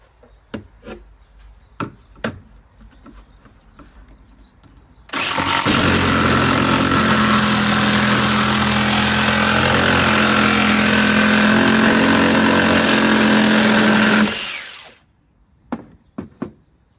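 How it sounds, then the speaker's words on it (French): Cutting a PVC piece in half lengthwise, for making kayak hull protection: a loud, steady, rasping cutting noise runs for about nine seconds, with a few sharp taps and knocks before and after. "je vais couper ma pièce en deux sur la longueur"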